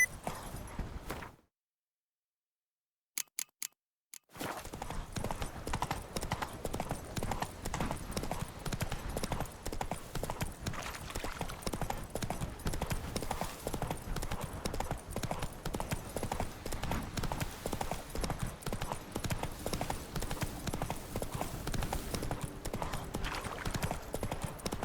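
A horse's hooves gallop in The Witcher 3 with a steady, rapid clip-clop rhythm. After a brief silent gap near the start, the galloping runs loud and continuous to the end.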